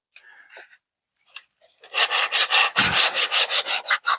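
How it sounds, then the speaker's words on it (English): An MDF terrain building is sanded by hand, starting after a few light taps and then settling into a close, loud, rhythmic back-and-forth rasp of about a dozen strokes. "I'll just give that a bit of a sanding."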